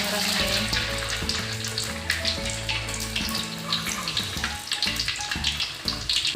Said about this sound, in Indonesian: Kita akan goreng lagi seperti ini